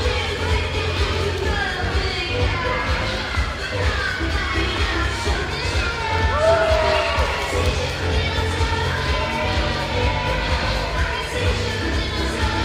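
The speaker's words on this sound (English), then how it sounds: "Getting the crowd fired up here." Crowd at an inaugural Ontario wrestling tournament cheering, a steady wash of shouts and yells from a packed hall that carries on without letup.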